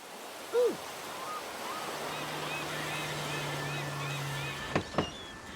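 Ocean surf in the GTA VI video game trailer washes steadily in a soft, continuous roar, with a brief tonal sweep early on, a faint low hum and a couple of sharp knocks near the end.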